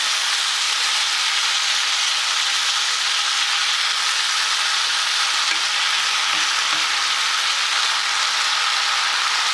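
Onion and clementine pulp fry in a pan, giving a constant bright sizzle and hiss that holds at an even level throughout, with no voices.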